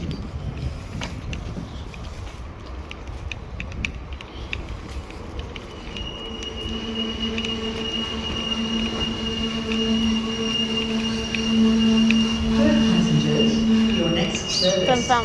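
A Perth B series electric train at East Perth station, with a steady mechanical rumble that builds as a whining motor tone rises and holds over the platform noise.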